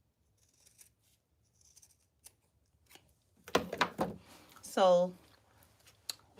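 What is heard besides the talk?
scissors cutting a wig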